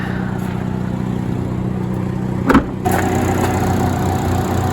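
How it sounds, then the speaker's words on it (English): Car at an auction idling with an exhaust leak, a steady low engine drone with a brief sharp puff partway through, after which the running note grows slightly louder and rougher. "it's got an exhaust leak somewhere"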